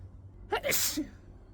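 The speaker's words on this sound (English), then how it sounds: "I'm gonna sneeze." A single sneeze, a quick sharp inhale followed by a bright burst, then quiet.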